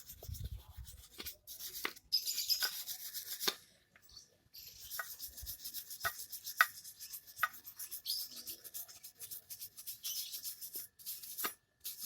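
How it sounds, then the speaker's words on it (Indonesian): A stiff wire brush scrubs back and forth over a Yamaha Aerox 155 CVT clutch lining in quick, rasping strokes with brief pauses, close and fairly quiet. "kita sikat menggunakan sikat kawat untuk menghilangkan kotoran-kotorannya ya."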